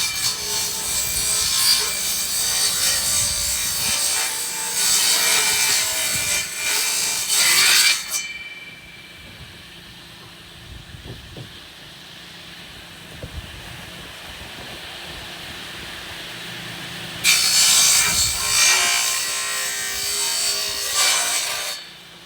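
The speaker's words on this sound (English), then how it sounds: "Not bad with this makeshift jigsaw, you know what I mean?" Wood being cut with a makeshift jigsaw during a DIY shed build, two loud bursts of steady rasping sawing separated by a quieter stretch of faint knocks and handling noise, close by with no talking.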